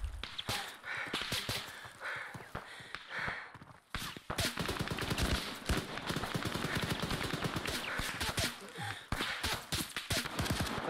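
Dense gunfire in the Arma 3 military game, a Soviet-Afghan campaign battle: rapid bursts and single shots crackle almost nonstop at close range, with voices talking over the fighting.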